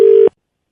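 A single short telephone tone while a call is being placed, a steady pure beep lasting under a third of a second that cuts off abruptly into silence.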